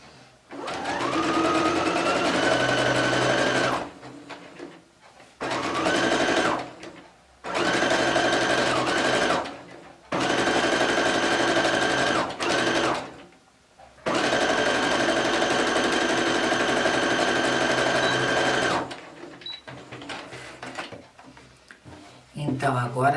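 Domestic sewing machine with a universal J presser foot running straight or zigzag stitches along a fabric border, in several loud bursts of steady whirring separated by short pauses.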